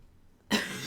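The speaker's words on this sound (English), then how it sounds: "Excuse my cough." A single short cough from a woman at a yarn-weaving table, sudden and close after near silence.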